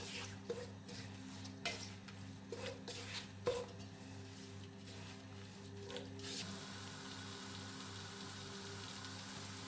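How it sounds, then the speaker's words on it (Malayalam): Turmeric and garam masala are stirred together in a pan for Arabic majboos, with a run of scraping, clinking strokes against the pan, then a steady low sizzle left alone. "എല്ലാം കൂടി നന്നായിട്ട് യോജിപ്പിച്ചെടുക്കുക"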